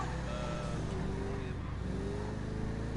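Steady car engine drone while driving, a movie-style car modeled on the one from Joyride, with continuous low rumble and some tonal whine, fairly loud and unbroken throughout.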